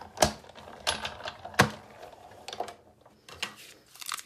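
A Big Shot die-cutting machine cutting out a shape, producing a series of close, sharp clicks and clacks with irregular spacing, and no voices.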